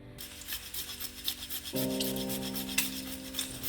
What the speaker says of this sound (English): Grate in as much nutmeg as you personally would like